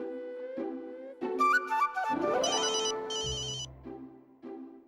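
A phone ringtone plays a bright, repeating electronic melody, loud and close, with no voices.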